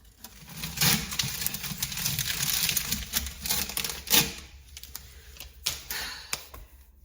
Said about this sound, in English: I might as well rip out all this old nasty shelf paper.